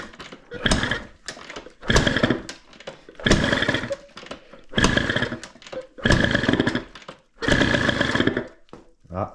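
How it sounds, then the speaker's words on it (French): A Bidalot 50WR 50cc motorbike engine on choke gives a series of short, loud, buzzy bursts that start and stop about six times in a row, close by, as it tries to catch. "On va mettre le starter tout simplement. Hop. Et là, ça devrait démarrer."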